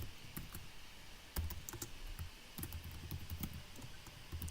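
HTML code being typed on a computer keyboard, a steady patter of close, crisp keystrokes with a few heavier thumps, continuing through the whole stretch.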